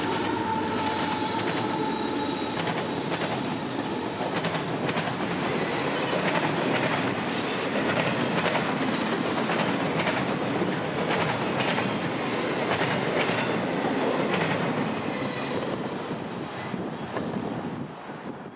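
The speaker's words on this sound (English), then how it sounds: "453 would have a good train for Miami today, sandwiched by two GE CM44 rebuilds with the auto rack cut for Palm Center bringing up the rear" Freight train 453 bound for Miami rolls past, led by two GE CM44 rebuild locomotives with an auto rack cut at the rear: a long, steady roar of wheels and cars with clicking rail joints, squealing flanges and wind buffeting.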